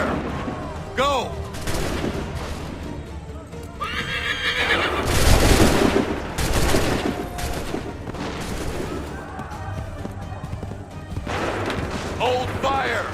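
A musket volley rings out in an Assassin's Creed 3 battle scene, with crackling gunfire bursts, horses neighing and hooves clopping, and shouted commands over a dense, loud soundscape.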